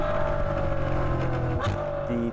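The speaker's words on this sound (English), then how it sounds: "the beauty of a big naturally aspirated high revving motor like this is a few things. It sounds incredible." The naturally aspirated V12 of a Ferrari F12 revs with a smooth, steady, tonal engine note that shifts slightly near the end. Moderately loud and brief.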